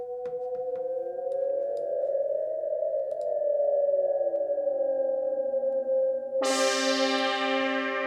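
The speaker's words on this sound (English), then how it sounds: "this particular sound right here comes from the Mini Moog" A Mini Moog synthesizer effect sweeps with gliding, converging tones that bend and drift, then snaps into a bright, buzzy sustained tone near the end, heard alone without voices.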